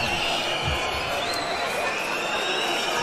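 A boxing crowd at the Jaluce vs Younes Amiri bout roars for the ring girl, a dense, steady wall of cheering and arena noise with a voice talking over it.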